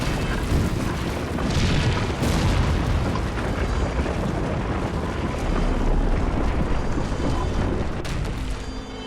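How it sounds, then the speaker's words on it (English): A burning giant ship crashes to the ground in a Robotech cartoon, heard as a dense, sustained roar of rumbling explosions and crashing debris, loud and continuous for the whole stretch, with no voices. "now a helpless mass of burning wreckage, the great ship sinks like a dying beast onto the cold, hard earth"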